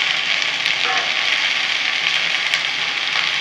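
Chopped jute leaves fry in a pan with a steady, close, bright sizzle and a little stirring, with no talking over it.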